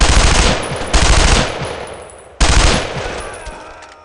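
Gunfire rattles in the World War II video game Brothers in Arms: Road to Hill 30, with two loud, close bursts of automatic fire, each fading into a ringing echo.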